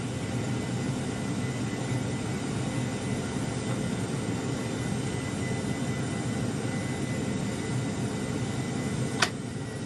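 An airliner rolling out after landing with spoilers up and reverse thrust deployed, a loud, steady broadband engine roar throughout, with a brief sharp click near the end.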